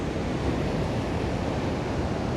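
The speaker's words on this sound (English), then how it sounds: "and the waves crashing" Ocean surf breaking steadily along Rosemarkie beach, a continuous dense roar of waves with wind rushing across the microphone, loud and unbroken, with no voices.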